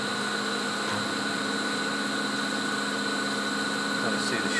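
A CNC milling machine spindle runs steadily while cutting an anti-roll bar top plate, giving a continuous, moderately quiet whine with a constant tone and no pauses.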